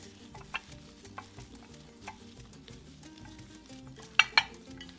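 Three pounds of raw skirt steak seasoned with black pepper and salt being mixed in a bowl, soft wet squelches and occasional faint clinks, ending in two sharper knocks near the close, quiet and close by.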